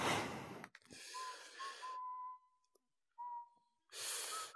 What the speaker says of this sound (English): That's Luigi that makes that whistling sound whenever the room's lit.